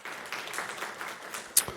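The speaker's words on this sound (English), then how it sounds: "Let's give her a round of applause" An audience at a State of the City address applauds the city attorney with a short burst of moderate, steady clapping that ends in a sharper final clap.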